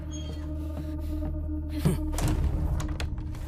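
A carrom striker is flicked across the board and sinks two pieces in one shot, giving a couple of close, dull knocks over a steady low background hum.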